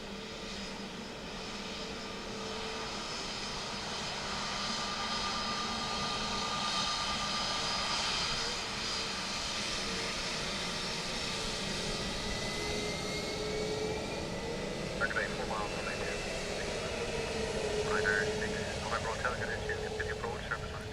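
A Ryanair airliner lands at Dublin Airport. Its engine roar runs steady and broad for the whole stretch, moderately loud and some distance off, with faint radio-style talk underneath.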